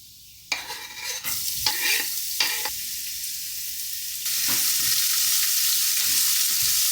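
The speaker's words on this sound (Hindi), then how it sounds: "भिंडी मैं बना रही हूँ नॉर्मल तरीके से, जीरा, उसके बाद लहसुन, और उसके बाद सीधा भिंडी डाल देती हूँ" Okra hits hot oil in a pan with cumin and garlic, a steady sizzle that swells louder after a few seconds, broken by scraping stirs, close and without speech.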